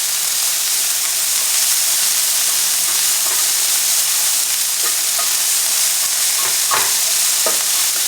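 Peppers, onions, mushrooms and ham frying in a hot pan, a loud continuous sizzle and hiss with occasional scraping and clinking as the mix is stirred, close and steady throughout.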